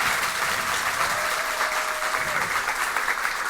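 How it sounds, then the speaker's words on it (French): A large crowd at a Haitian high-school quiz match between Lycée Anténor Firmin and Lycée Sibert applauds in a dense, steady roar with a whistle-like tone drifting through, loud and continuous throughout. "Applaudis plus fort, applaudis plus fort"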